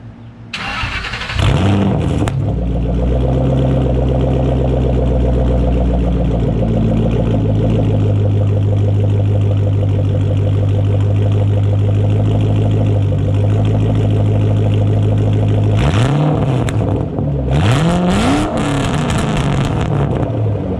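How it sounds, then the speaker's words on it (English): An 800-horsepower sports car engine cranks on a warm start and fires up into a deep, loud idle that drones steadily, then revs sharply a few times near the end. "See if we can get a nice warm start for you guys and a few revs."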